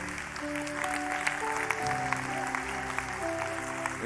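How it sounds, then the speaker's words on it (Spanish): Applause from a church congregation, steady and moderately loud, with sustained organ or keyboard tones running beneath the clapping throughout. "Den ese fuerte aplauso para el rey."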